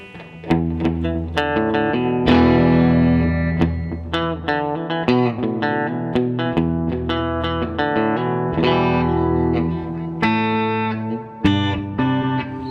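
Electric guitar notes and chords ring through effect pedals chained in series, including a VFE Yodeler, distorted with chorus and reverb tails, played continuously and loud.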